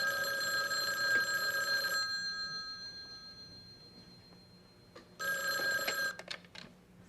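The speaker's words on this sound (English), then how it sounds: "Answer the phone the way I taught you, okay?" A landline telephone rings in a sitcom home, two loud electronic ring bursts with a quiet pause between them, the second ring cut short.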